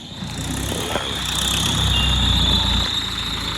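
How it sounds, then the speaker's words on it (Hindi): A tractor at a brick kiln starts and pulls away, a steady close engine drone with a high whine, rising slightly before the low rumble drops off near the end, no talk. "अभी ट्रैक्टर वहाँ से निकालेंगे, स्टार्ट हो गया।"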